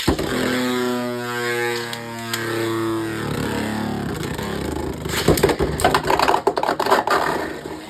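Beyblade X tops launched with a wobble launch: a ripping launcher pull with a falling whine, then spinning tops whirring and clattering against each other and the stadium in a burst of sharp clicks and knocks near the end.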